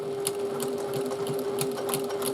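Sewing machine stitching a seam in fabric for a tote bag, a steady close whirring hum with a rapid needle rhythm running continuously and alone.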